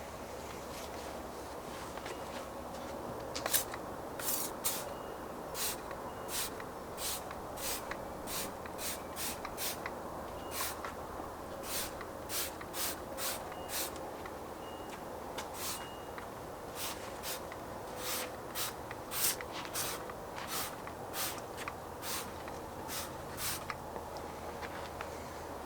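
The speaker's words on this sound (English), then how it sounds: "I'm just gonna lightly just spray the whole engine bay, this wiper cowl as well." Repeated short hissing bursts of cleaner sprayed over a car engine bay and wiper cowl, some quick in succession, some spaced apart, close by over a steady low background hum.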